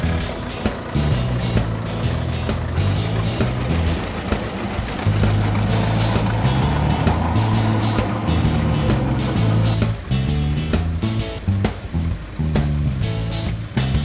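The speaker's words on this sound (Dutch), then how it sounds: "De oudste trekker in het veld was deze Fortson F uit 1926 van Menno de Jong." A 1926 Fordson F vintage tractor works a field at a ploughing championship, its low engine chugging in a loud, steady rhythm with sharp mechanical knocks and clatter throughout, no voices.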